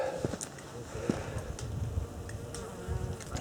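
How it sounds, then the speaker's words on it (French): Bees buzz close by along a hiking trail lined with cistus shrubs in Hérault, a wavering insect drone that rises and fades as they pass, with soft voices speaking underneath. "Les petites abeilles se régalent."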